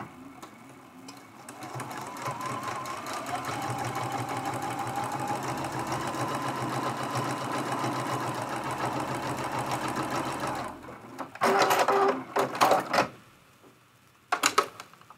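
A sewing machine quilting a mug rug runs in one long steady whirring stretch of rapid stitching, then stops, followed by a few short bursts and clicks, close with no talking.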